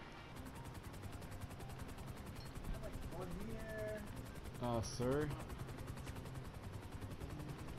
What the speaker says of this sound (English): We've noticed that this helicopter's been rigged.